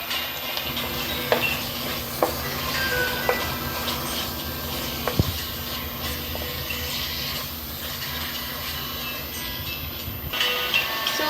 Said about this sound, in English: we'll be adding in the meat now, so that it gets fried well in the oil